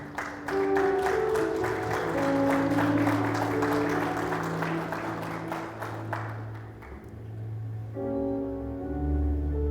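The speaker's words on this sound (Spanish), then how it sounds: "Denle un aplauso al Señor" A church congregation applauds during a Spanish-language sermon, a sustained roomful of clapping over sustained musical tones, tapering off after several seconds while the tones continue.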